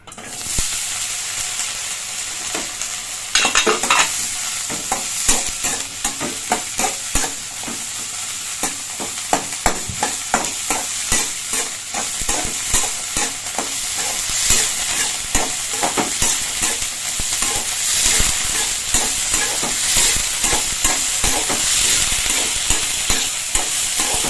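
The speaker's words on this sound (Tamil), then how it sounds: "எண்ணெய் சேர்த்துட்டு இப்போ இந்த அத்திக்காய் இதுல சேர்க்கிறேன்." Young figs (athikai) stirred and frying in a little oil in a pan, giving a steady close sizzle with frequent scraping stir strokes throughout.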